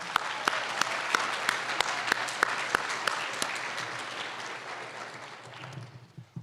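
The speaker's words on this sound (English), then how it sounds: "You deserve a warm round of applause from all of us for all of your support for your graduate." Warm audience applause at a university humanities graduation convocation, honouring graduates' families: a dense, steady wash of many hands with sharp individual claps standing out, holding for several seconds before thinning and fading toward the end.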